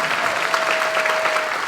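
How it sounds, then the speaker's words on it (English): Applause from an audience at an employee awards ceremony, a full, loud and continuous patter of many hands with a faint steady tone running beneath it. "Let's give one more round of applause to our Area Employees of the Year."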